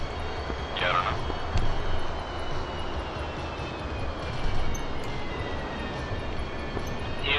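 Jet aircraft engine starting up in the DCS flight simulator game, producing a steady loud broadband roar with a slowly gliding whine under it, continuous throughout.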